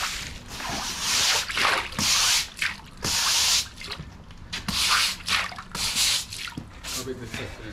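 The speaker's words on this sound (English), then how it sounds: "Try and splash it around a bit." Disinfectant splashes across a patio drain in a run of irregular, wet splashes and drips, moderately loud and close, with pauses between bursts.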